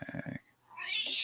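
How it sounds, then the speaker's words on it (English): A cat meows close behind a microphone, one bright rising call following a short burst of talking. "That was the cat. That's my cat."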